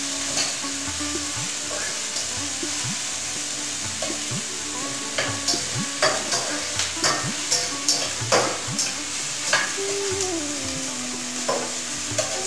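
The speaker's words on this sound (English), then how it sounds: "add the onion in the hot oil" Onion sizzles steadily in hot oil, a dense continuous frying hiss with intermittent utensil clinks and stirring scrapes growing busier partway through, close and fairly loud with no talking.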